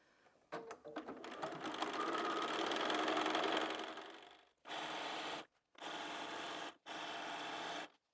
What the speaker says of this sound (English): So I'm just going to sew this to the wadding.